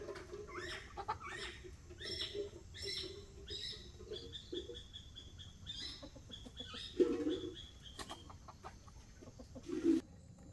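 Chickens in a rural home yard give soft, intermittent clucks and short calls against a quiet background, with a couple of slightly louder notes near the end.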